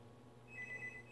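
A telephone rings with an international private caller on the line, a faint electronic trill that starts partway in and repeats in short bursts over a low room hum.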